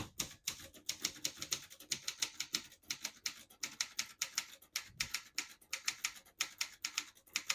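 Brisk typing on a 1972 Consul 231.3 vintage portable typewriter, with crisp, rapid key strikes in steady bursts and short pauses between them, close and clear with no voices.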